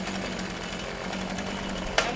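A Ryobi RCS4240NB two-stroke petrol chainsaw runs after a cold start, giving a steady, rapid buzzing rattle at moderate loudness, with a sharp click near the end.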